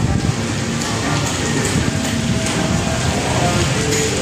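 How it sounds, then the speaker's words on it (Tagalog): Light drizzle falls near the Esplanade along the Pasig River, a steady soft hiss of fine rain on surfaces filling the whole stretch at an even level. "yung ambon-ambon na lang."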